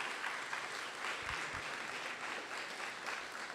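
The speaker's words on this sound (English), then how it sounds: "I think we should give them a round of applause here." Faint, steady audience applause at a mechanistic interpretability workshop with a large in-person crowd, an even patter of many hands clapping throughout, heard alone and from a distance.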